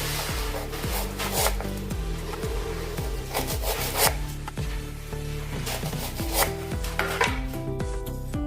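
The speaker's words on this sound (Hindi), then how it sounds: "प्याज को 8 टुकड़ों में काटेंगे।" A knife cuts an onion into eight pieces on a board, giving a run of firm, fairly regular chops and scrapes over a background of tonal music.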